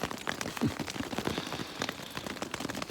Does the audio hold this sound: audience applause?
no